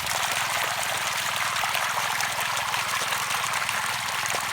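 Water pumped into a pangola grass field, a loud, steady rush and splash of flowing water close by, with a low, even pump hum underneath throughout.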